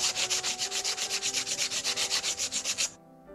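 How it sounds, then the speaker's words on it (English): Rhythmic hand sanding on wood, about twenty quick back-and-forth strokes in a steady rhythm, close and clear, then it stops and goes quiet. "Then I spent forever sanding down those pieces of wood so they were nice and smooth."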